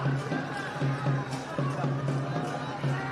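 Crowd at a university rugby final between Colombo and Sri Jayawardanapura roars its approval of desperate defensive work on the try line, a steady, fairly loud wash of cheering and hubbub beneath a commentator's continuous talk.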